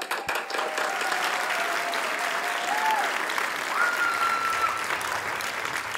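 Loud, sustained applause from the audience at a blind audition singing show, a dense continuous clapping wash with a faint held sung tone briefly rising above it.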